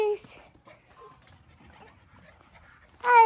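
Bernese Mountain Dog puppies whimpering and whining at feeding time on a farm, short high-pitched cries at the start and a louder burst at the end, with quiet rustling between.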